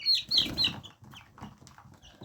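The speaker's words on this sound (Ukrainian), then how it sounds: "А це у нас тут кричать курчата мої вже дорослі" Nearly three-week-old chicks call loudly in a coop, with sharp high cries up front followed by quieter, scattered peeping and clucking.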